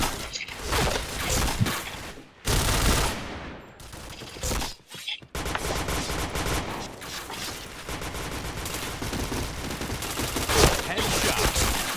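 Gunfire in a multiplayer shooting video game, dense rapid bursts of shots and impacts crowding nearly continuously, loud and close, with a player's voice faintly under the firing.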